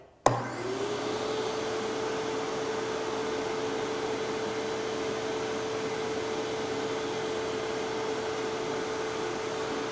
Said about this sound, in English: here is the DEWALT Stealthsonic 12-gallon